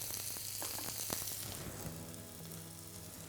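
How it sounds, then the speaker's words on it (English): Sirloin steak searing in a hot pan while pressed down for even contact, a loud, close, steady sizzle that gradually settles into a softer crackle. "I'm just going to press it lightly, try and ensure the contact is all over the steak onto the hot pan"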